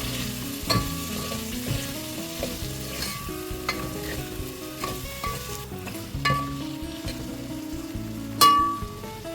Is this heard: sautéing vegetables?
yes